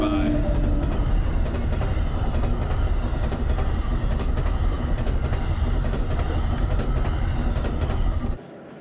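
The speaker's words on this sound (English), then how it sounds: "As the train goes by." A train rumbles past near a clamming shore, loud and continuous with rattling wheels and clacking, then cuts off abruptly near the end.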